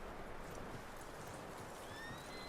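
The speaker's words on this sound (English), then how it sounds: "That looks like a decent horse. You should keep him." Horses in the Red Dead Redemption 2 video game clop and whinny faintly, a soft, steady hoof patter with a thin high neigh near the end, heard against a constant background hiss.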